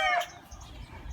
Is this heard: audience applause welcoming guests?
no